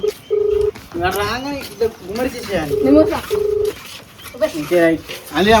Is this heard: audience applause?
no